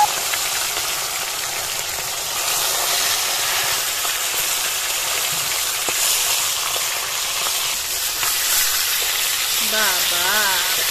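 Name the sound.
fish frying in a hot pan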